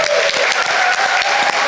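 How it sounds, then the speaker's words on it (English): An audience claps for the speakers at the 60th anniversary event of the Delano Grape Strike, a dense, steady burst of applause filling the room close by. "give them a round of applause"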